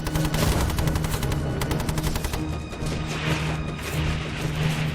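Rapid bursts of machine-gun covering fire in a World War II battle scene, dense repeated rattling shots near and loud, thinning toward the end with scattered impacts.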